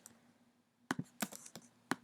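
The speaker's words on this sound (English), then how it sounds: "I'm typing that in" Keystrokes on a computer keyboard entering a formula into Desmos: a quiet pause, then a quick irregular burst of sharp clicks and taps, close and fairly faint over a low hum.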